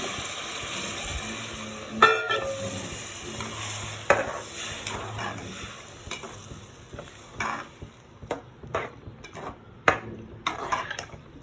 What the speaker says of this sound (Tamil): கொஞ்சம் நேரம் இது நல்லா கொதிக்கட்டும்,